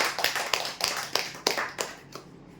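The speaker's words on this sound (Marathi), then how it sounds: "पैसा बेटचे विजेते जोरदार टाळ्या होत्या यांच्यासाठी" A small crowd applauding the winners of a weekly lottery draw, roughly eight loose, rhythmic rounds of clapping that fade toward the end, close and unaccompanied by speech.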